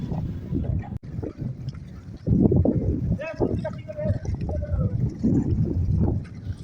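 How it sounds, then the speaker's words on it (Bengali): Strong, gusty wind at Chilmari river port on the Brahmaputra in Kurigram buffets the microphone with a continuous low roar that surges and eases, while voices come and go underneath. "আর গাইস, এখানে এত পরিমাণ বাতাস,"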